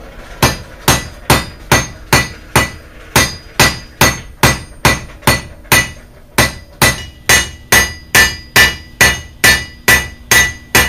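A blacksmith hammers hot steel while forging a coat hook, about two dozen sharp, ringing hammer blows in a steady rhythm, loud and close, with one brief pause midway.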